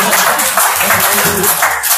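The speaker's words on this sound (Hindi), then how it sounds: "आपने बहुत तालियां बजी थी।" Audience applause at a spiritual talk, a dense, loud, continuous patter of many hands clapping close by.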